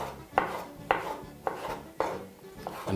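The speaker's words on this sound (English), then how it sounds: "simply proceed to just julienne those. Make them fairly thin" A knife slicing bell peppers into thin julienne strips, five crisp, evenly spaced cuts tapping against a cutting board, close and clear with no talking.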